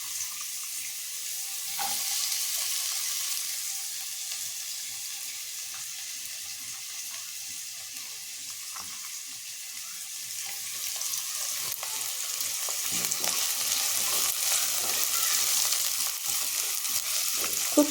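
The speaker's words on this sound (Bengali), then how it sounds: "তেল গরম হয়ে গেছে। এবার আমি এই যে পেঁয়াজগুলো প্রথমে দিয়ে দিলাম, সেই সাথে অন্য সবজিগুলো দেব, কারণ এগুলো একটু ভাজতে তো সময় লাগবে।" Onions and other vegetables fry in hot oil with a steady, close sizzle that holds throughout, broken by occasional light clinks and stirring noises, for a Bengali stale-roti fry.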